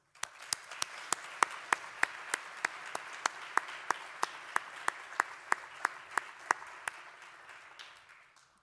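A small audience claps in a steady, even rhythm at the opening of an Icelandic municipal assembly, sharp hand claps repeating for several seconds before trailing off.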